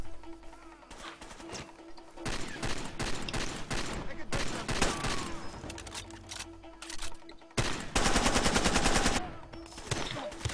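Rapid bursts of gunfire from Far Cry 2 crack back and forth across a firefight, with dense automatic volleys and single shots, loudest in a sustained stretch near the end, as a player's voice talks over parts of it.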